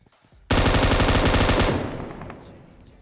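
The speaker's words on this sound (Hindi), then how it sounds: "अब आगे गोली चलनी होती है" Machine gun fire in the video game PUBG Mobile, a loud sustained automatic burst of rapid shots lasting about a second, then fading echoes and trailing noise.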